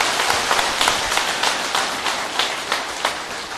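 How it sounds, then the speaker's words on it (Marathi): A crowd at a Mahatma Basaveshwar Jayanti festival gathering claps vigorously, a dense, steady wash of applause with regular sharper peaks running through it. "सर्वांनी आपापल्या स्वतःसाठी जोरदार टाळ्या वाजवायचे"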